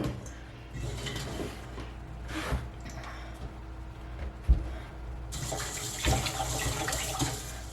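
Tap water runs steadily into a sink to rinse cauliflower florets, a continuous close splashing that swells louder and brighter partway through, with occasional knocks of the florets and bowl.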